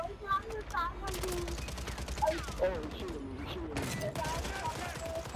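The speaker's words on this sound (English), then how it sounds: "Oh, he's shooting me." Rapid gunfire bursts and single shots in Call of Duty on Rebirth Island, a WSP-9 firing among crackling volleys and mechanical clatter, dense and close, with a player talking over it.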